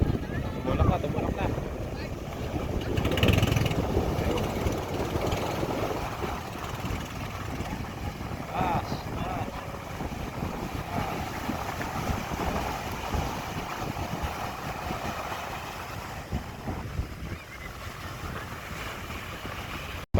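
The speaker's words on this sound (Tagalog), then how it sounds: "ampias ng hangin, ampias ng alon ng dagat" Strong wind buffets the microphone over a rushing sea with waves washing nearby as a fishing boat pushes off, and a voice speaks intermittently beneath the gusts.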